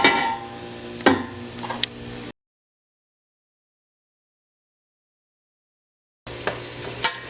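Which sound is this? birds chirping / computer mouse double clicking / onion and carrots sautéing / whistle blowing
onion and carrots sautéing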